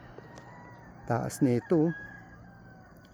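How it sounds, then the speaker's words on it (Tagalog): Roosters crow in the misty mountains of Benguet, three distinct crows in quick succession standing out over a faint, quiet background, with a brief voice speaking nearby. "Manok lang yung naririnig"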